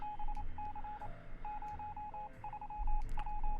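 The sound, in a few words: Morse code radio transmission in video game 60 Seconds Reatomized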